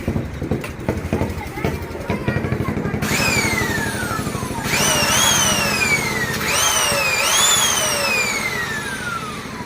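A newly unboxed handheld power tool, reversible with forward and reverse, spins up with rising whines that climb and fall in several bursts, loud and close, over steady motor hum and background noise.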